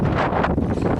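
Strong wind buffets the microphone during boating on Gadisar Lake in Jaisalmer, a loud, continuous rumbling roar.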